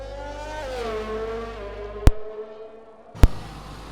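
A McLaren race car on its outlap on dry tyres in a racing game at Abu Dhabi, its engine droning steadily with a falling then level pitch, broken by two sharp loud bangs.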